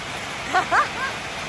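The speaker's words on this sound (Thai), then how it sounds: "แล้วตอนนี้ก็คือฝนตกแรงมาก" Heavy rain pours down in a steady, even hiss during a motorcycle ride, with a few brief vocal sounds rising over it around the middle.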